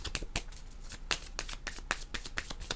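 Oracle cards are handled and drawn for a reading, giving crisp close riffling and flicking slaps that come in irregular quick bursts, with no talking.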